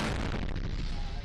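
Grenade launcher firing during combat in the battle for Bakhmut, a loud dense blast of noise filling the short moment, close and harsh with no voices.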